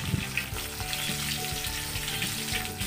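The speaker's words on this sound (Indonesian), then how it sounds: "kemudian tahu kuningnya digoreng" Yellow tofu frying in oil for kupat tahu, a continuous close, bright sizzle with faint bubbling and occasional clinks, no voices.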